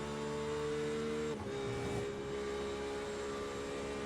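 A GTE race car in the iRacing sim at Road America going flat out through the kink, a loud sustained high engine drone with a brief dip and pitch shift around the middle, then holding steady.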